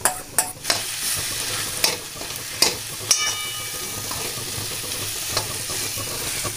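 Mashed eggplant pulp for baingan bharta sautés in a spoonful of oil, giving a steady close sizzle broken by several sharp scraping stirs of a spoon against the pan, with no talking.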